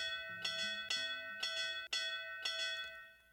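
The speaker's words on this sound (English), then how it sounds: "All that's left is to ring the bell and wait." A bell rings in the video game Camera Anima, struck four times at a slow, even pace, each strike a bright metallic clang with a long ringing tone, loud and close with no talk.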